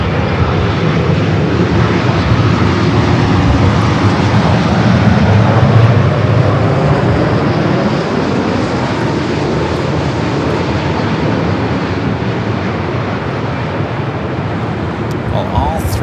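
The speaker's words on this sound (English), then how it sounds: "I'm gonna go from this Dreamliner to the Lufthansa Dreamliner." A Lufthansa Boeing 787 Dreamliner arriving at LAX from Frankfurt makes a loud, continuous jet roar that swells gently around the middle and then settles into a steady rush.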